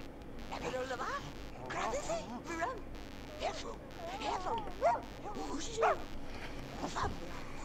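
A dog in The Sims 2 video game yipping, barking and whimpering in repeated short bursts over a steady background.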